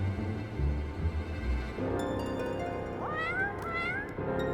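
A cat meows repeatedly in Final Fantasy XIV, a string of close, clear calls over a steady game backdrop, with rising chirpy mews near the end.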